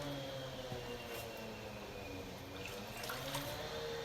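Water rinses glaze off a pottery surface, a steady, continuous splashing flow that holds close and even throughout with no voices.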